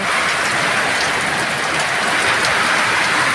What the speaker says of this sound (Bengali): যেভাবে বৃষ্টি শুরু হয়েছে বিগত 1 মাস পরে